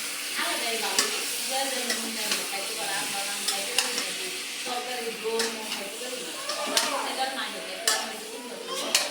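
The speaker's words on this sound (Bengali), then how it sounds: "এই শিমটা মশলাতে কষিয়ে নিলাম।" Flat beans being stir-fried in a spice masala, with steady sizzling and frequent scraping stirs and utensil clinks against the pan, close up and partly beneath a voice talking.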